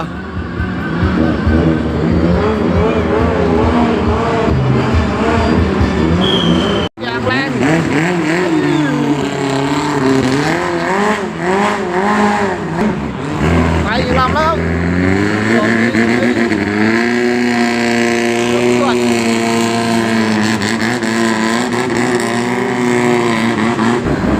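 A racing boat engine roars and revs loudly and steadily through a warm-up test run before a boat race at a temple festival, its pitch rising and falling, with a brief cut partway through.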